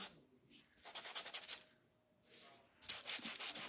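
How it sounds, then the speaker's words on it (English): Hand sanding along the ends of an unfinished wooden mini kitchen hutch from a craft kit, with two bursts of brisk, close rasping strokes separated by a short quiet pause. "I'm gonna over sand the ends here"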